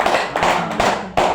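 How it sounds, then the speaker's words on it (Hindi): Loud bursts of audience clapping at a Hindi motivational storytelling talk, arriving in a few strong surges with brief dips between them, no talk over it. "ताली दमदार बजानी है, अगर बजानी है जोरदार ताली होनी चाहिए"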